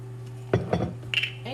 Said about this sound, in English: And you gotta make sure you stir this.